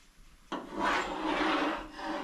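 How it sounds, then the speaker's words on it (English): Hand sanding of a car body panel with 220-grit sandpaper in a garage, a steady close rasping rub that starts abruptly and continues evenly for about two seconds, no voices. "I got some 220 over there I can lightly hand sand it with"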